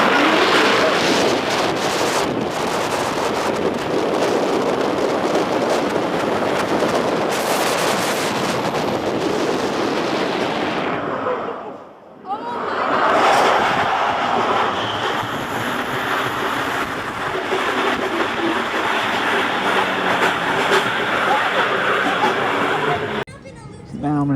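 Front-row ride on the Superman Escape from Krypton roller coaster at Six Flags Magic Mountain: a loud roaring rush of wind and track noise, a brief dip near the middle, then a steadier rumble as the train slows.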